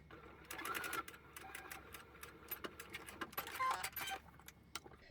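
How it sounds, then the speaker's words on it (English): A sewing machine runs in close, steady bursts, its needle tapping rapidly as it stitches a fabric purse tab, with short pauses and small handling noises between runs. "we're going to sew from the edges to that cut line"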